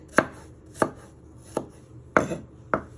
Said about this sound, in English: And then you just want to chop it into little pieces.